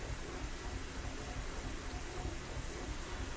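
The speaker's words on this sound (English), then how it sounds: "strained my ears past the sound of rain falling" Steady rain falls as ambient background in the visual novel Planetarian, a continuous soft hiss with no distinct drops or voices.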